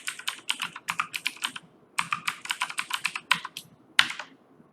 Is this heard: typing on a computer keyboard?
yes